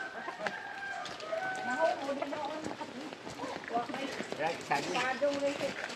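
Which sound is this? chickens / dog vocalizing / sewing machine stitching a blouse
chickens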